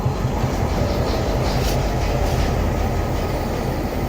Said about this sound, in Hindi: और ये KCR का लोकोमोटिव GMU15 4819